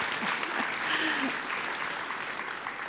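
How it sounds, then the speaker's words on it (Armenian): Audience applause at a national dance gala final, a continuous wash of clapping from a large crowd in a hall, heard at moderate distance with a voice faintly present underneath. "Եթե ուզում եք կարող եք ծափահարել։"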